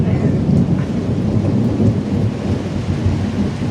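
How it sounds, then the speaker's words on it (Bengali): Sudden heavy rain pours down in a dense, loud, continuous roar with deep rumbling underneath, close and steady without talk. "একদম হঠাৎ করে হঠাৎ করে বৃষ্টিটা আইছে"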